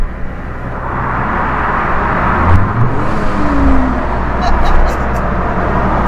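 A small Daihatsu car accelerates on the road, its engine and tyre roar building loud and close with heavy wind rush, as people talk inside over the noise.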